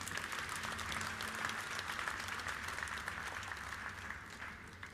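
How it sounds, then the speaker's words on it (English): A full round of hand clapping from the audience at Makerere University's 100-year celebration. The applause is dense and continuous at a moderate distance, tapering slightly at the end, with no talking. "those hand claps were not sufficient."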